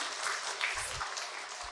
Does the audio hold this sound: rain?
no